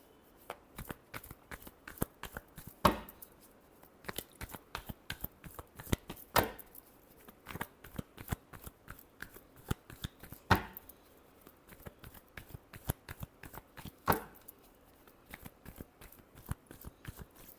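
Tarot cards being shuffled by hand, a series of soft crisp riffling and tapping bursts with small pauses between, close and fairly quiet.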